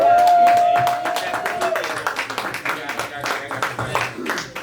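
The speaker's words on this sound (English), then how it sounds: "Round of applause." Audience applauding at a comedy show, a dense burst of clapping that starts loud and slowly thins out, with a sustained whistle-like tone early on and voices mixed in.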